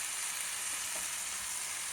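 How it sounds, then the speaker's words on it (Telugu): Vegetables with chopped brinjal fry in an oiled pan for a lentil dish, giving a steady, dense sizzle up close with no talking. "వేసేసి ఒక 5 నిమిషాలు ఈ కాయగూరలు పచ్చివాసన పోయే వరకు వేగనిద్దాం"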